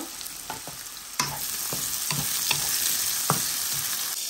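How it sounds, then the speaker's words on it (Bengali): Onion frying in oil in a pan, a continuous sizzle broken by several sharp scraping stirs of a spatula at irregular intervals, close and fairly loud with no talking. "পেঁয়াজটা একটু ভাজি হইল"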